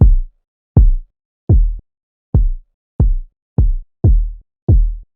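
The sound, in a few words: synthesized kick drum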